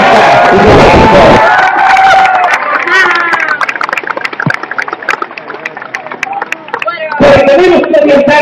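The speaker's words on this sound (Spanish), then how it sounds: "Un aplauso para la prensa libre de Oaxaca y de México." Crowd at a political rally in Oaxaca, Mexico, answers with cheering and clapping, loud at first and returning near the end, while a voice carries over the noise through the middle.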